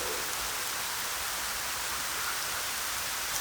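Rain falls steadily in an even, dense hiss across the whole stretch, close and unbroken, with no talking.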